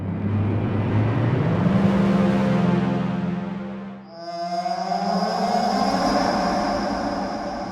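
Two short cinematic hit samples from the Vienna Smart Hits library play back to back: a low, rumbling, whooshing tone that dips into a brief gap, followed by a ringing, bending metallic tone. Both are loud and close, with no voices.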